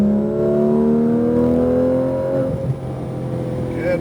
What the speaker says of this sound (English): Go and accelerate to the middle.